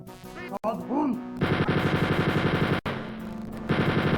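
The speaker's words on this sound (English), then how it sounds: "He shoots at you." Rapid machine-gun fire from an enemy in Wolfenstein 3D, the 1992 DOS first-person shooter, comes as dense, evenly spaced bursts of retro digitized gunshots, loud and close over game music.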